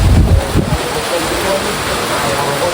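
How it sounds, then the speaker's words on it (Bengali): Gusting wind buffets the microphone at a riverside ferry ghat on a rainy coastal day, loud rumbling bursts at first that settle into a steady windy roar. "এই মেঘ এই বৃষ্টি, এই যে ঘাট পারাপারের যে নৌকা আসতেছে বৃষ্টি বাতাস"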